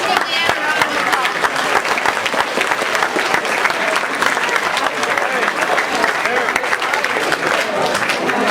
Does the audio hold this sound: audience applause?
yes